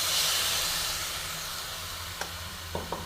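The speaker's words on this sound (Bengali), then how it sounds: "এবার আমি দেখো কিছুটা জল দিয়ে দেবো" Water splashed into a hot pan of pumpkin greens for a tilapia curry sets off a loud, steady hiss of sizzling steam that slowly fades, with a few sharp clinks of a utensil near the end.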